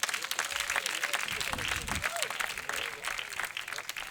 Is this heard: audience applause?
yes